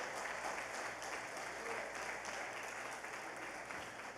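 Church congregation applauding during a sermon, a dense steady wash of clapping that holds evenly through the whole stretch without easing off.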